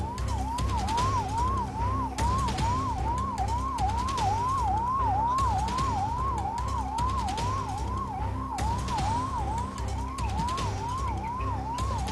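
A fire brigade vehicle's electronic siren at the scene of a chemical factory blast in Dombivli, wailing in a fast, steady repeating up-sweep pattern, loud and continuous over low traffic rumble, with no talk.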